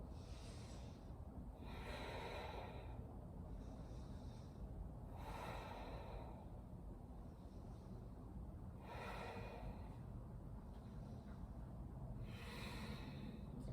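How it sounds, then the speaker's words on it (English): Slow, deep breaths during a yoga session, four or five long airy inhales and exhales spaced evenly apart over a low steady background hum, fairly soft and close. "Breathing in and breathing out. You've got 5 breaths here."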